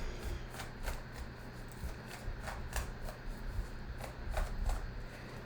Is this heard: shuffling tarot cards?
yes